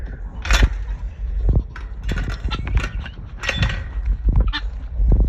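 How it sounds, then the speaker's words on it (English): Harsh, rapid chattering calls from guinea fowl on a farm, repeated in irregular bursts, close by, with a little background noise between calls. "These are my guineas. Chirp, chirp, chirp."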